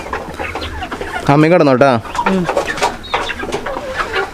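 Country hens clucking and squawking inside a backyard coop, close and loud, with a burst of louder calls partway through and a person's voice speaking briefly among them.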